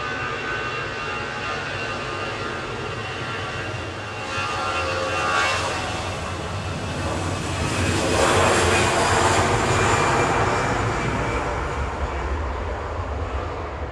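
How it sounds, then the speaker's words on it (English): An EasyJet airliner departs Manchester Airport bound for Alicante, its engines building into a broad, rising roar that swells midway and holds loud near the end, with no talk over it. "EasyJet departing now, heading off to Alicante with flight"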